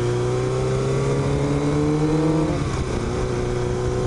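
A Kawasaki motorcycle engine drones steadily at close range, its pitch climbing and then dropping as a gear change comes through, with wind rushing over the microphone and no talking.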